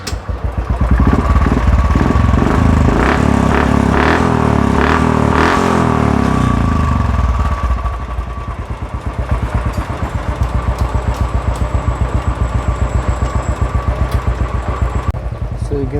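A Royal Enfield motorcycle engine, just back in running order after a wire repair, idles loudly and steadily for the whole stretch, with a few revs near the start and a voice speaking over it.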